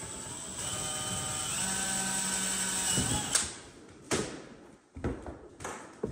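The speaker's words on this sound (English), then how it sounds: "Then I'm just gonna drill." A power drill boring into a canoe hull while it is fitted out for whitewater. A steady whine runs for about three seconds, then stops, followed by a few short bursts of drilling and handling knocks.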